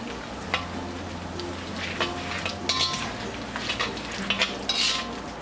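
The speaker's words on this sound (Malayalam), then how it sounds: "ഓയിൽ ചൂടാകുമ്പോഴേക്ക് എടുത്തു വെച്ചിരിക്കുന്ന പട്ട, ഗ്രാമ്പൂ, ഏലക്ക, ചതച്ച് വെച്ചിരിക്കുന്ന പെരിഞ്ജീരകം ഇത്രയും ചേർത്ത് ഒന്ന് ഇളക്കി കൊടുക്കാം" Cinnamon, cloves, cardamom and crushed fennel frying in hot oil for Chettinad chicken, a steady moderate sizzle with intermittent clinks and scrapes of a spoon stirring in the pan.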